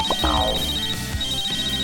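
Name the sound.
phone ringing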